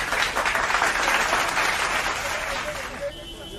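Clapping welcoming a roadside shopkeeper at a bus stand, a broad burst of hands from several people that carries on steadily and tapers near the end as a voice comes in.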